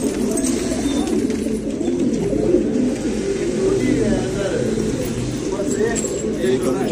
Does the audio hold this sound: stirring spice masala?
no